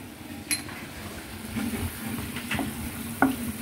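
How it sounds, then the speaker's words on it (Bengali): Kasuri methi frying in a pan for navratan curry crackles with a steady close sizzle, broken by a few sharp clinks of a spoon against the pan as it is stirred. "আগে একটু কস্তুরি মেথিটা দিয়ে বেশি ভাজবো না, অল্প একটু নেড়ে চেড়ে নেবো।"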